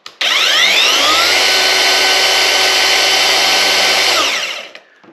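An anbull 1000W cordless electric rebar cutter whirs loud and steady as its cutter runs out and back in, a high motor whine holding for about four seconds before spinning down, with no talk.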